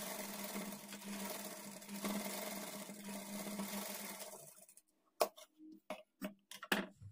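A sewing machine runs steadily for almost five seconds, stitching a decorative edge on a lining blouse, then gives way to a few short, sharp knocks and clicks.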